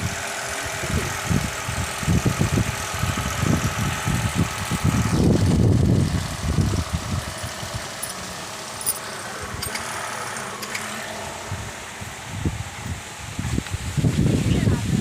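A newly bought STP sprayer pump engine runs steadily outdoors, a continuous low engine drone with louder surges, while people talk over it throughout.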